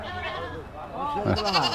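A young goat at a busy livestock market gives a couple of short, wavering bleats close by, mixed in with people talking.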